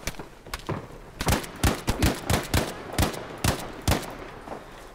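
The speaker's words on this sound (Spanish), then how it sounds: "Ya escucho disparos por allí al fondo." Gunfire in the multiplayer shooter Battlefield V on PC, with a rapid series of loud sharp shots in uneven bursts, some near and punchy, others duller and further off.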